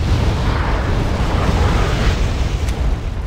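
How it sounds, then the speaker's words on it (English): Artillery shells burst in a video game, a loud, dense rumbling roar of explosions that fills the whole stretch with little pause, heavy and close, with no voices. "Obvious by now where this artillery was coming from, because I could see the shells coming in"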